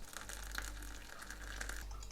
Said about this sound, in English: I pour boiling water over the tea, as one does.